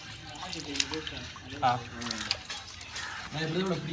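Meat being washed by hand in a vessel of water during outdoor cooking with friends, with intermittent splashes and trickling under ongoing speech.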